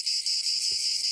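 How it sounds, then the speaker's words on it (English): Periodical cicadas buzz in a steady, shrill, continuous drone, loud and close, with only faint low rumbles underneath. "Billions of cicadas are expected to hatch from Delaware to Georgia"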